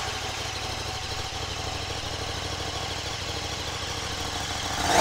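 A 2017 KTM Super Duke 1290 GT motorcycle engine idles steadily with a fast, even lumpy throb for several seconds, close and fairly loud, swelling slightly at the very end.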